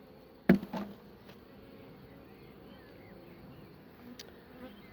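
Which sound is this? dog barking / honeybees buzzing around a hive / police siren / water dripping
honeybees buzzing around a hive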